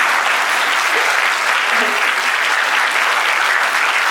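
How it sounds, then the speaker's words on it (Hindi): Audience applause fills the hall at a school literary conclave, a dense, even wash of clapping that holds at steady loudness throughout, with no voices standing out. "राजीव सर ने कहा कि तालियां बजा दीजिए"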